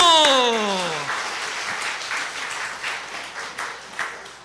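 A crowd of churchgoers at a laughter-therapy health talk breaks into clapping after a sliding vocal whoop, the applause gradually thinning and fading out.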